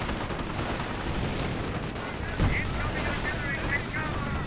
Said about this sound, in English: And we do have some artillery being brought in. That's officer artillery.